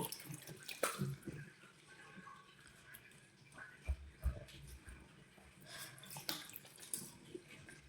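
Tap water runs into a bathroom sink while a woman washes her face with plain water in her evening routine, a steady splashing hiss with a few louder splashes and clunks, close by and without talk.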